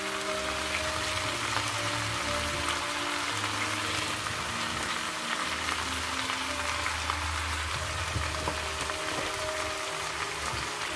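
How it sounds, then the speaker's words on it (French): Tomato and plantain frying in a pan and being stirred, a steady loud sizzle and crackle with soft scraping of the spoon, continuous and close. "je continue de remuer"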